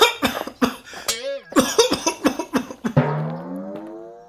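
A run of harsh, rapid coughs in quick bursts, about a dozen in all, with a strained wheezy gasp between them and a drawn-out hoarse tail at the end, close and loud.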